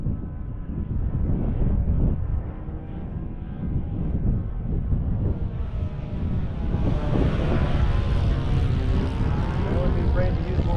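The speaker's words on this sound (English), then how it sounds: "That's full throttle." An 83-inch balsa RC trainer airplane flies at full throttle, its engine a steady, continuous drone mixed with wind buffeting the microphone, with faint voices underneath.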